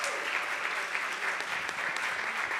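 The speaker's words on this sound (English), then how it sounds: "Let's have another round of applause for all of them." Sustained applause from an audience at a farm food-loss solutions showcase, honoring the presenters and judges; dense, steady clapping fills the whole stretch at a fairly even level.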